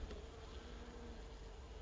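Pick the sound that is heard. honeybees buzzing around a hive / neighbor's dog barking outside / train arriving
honeybees buzzing around a hive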